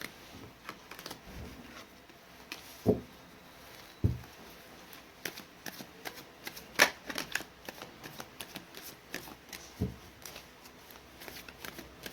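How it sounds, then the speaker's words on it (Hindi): Tarot cards shuffled by hand close up, with repeated soft riffling and tapping bursts at an uneven rhythm, alone without talk. "मैंने कर ली है कार्ड्स की सफलिंग"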